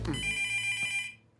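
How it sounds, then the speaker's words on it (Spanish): An old-style telephone bell rings in a Garfield cartoon, one loud, close, bright metallic trill that stops abruptly and fades out within a second, with no voices. "¡Teléfono!"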